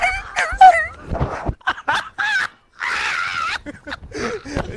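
Dog sound effects from the Black Ops 4 video game come in a quick run of loud, close barks, yips and whimpers, broken by short gaps with one brief silence midway.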